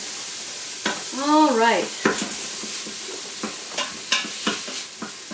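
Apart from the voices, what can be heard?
stirring chicken gizzards in a pan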